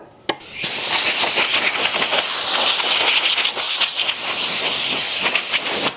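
Compressed air blasts steadily across a freshly refinished antique birch dining table, a loud, continuous hiss close by with brief spurts and flutters as the nozzle moves, preceded by a short click.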